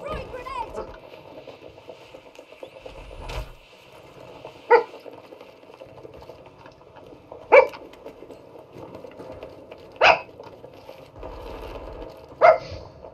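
A dog barks indoors near a bed, several sharp single barks spaced a few seconds apart over a steady background of game sounds and low talk, fairly close and moderately loud.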